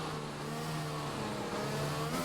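Simulated Formula 1 car accelerating flat out through the final corners of a racing video game, a steady loud engine whine holding near and constant throughout, with a slight pitch rise near the end.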